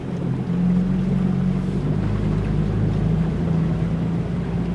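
A car pushes through deep floodwater, water sloshing and rushing around the body under a low, steady engine drone, with no speech in the moment.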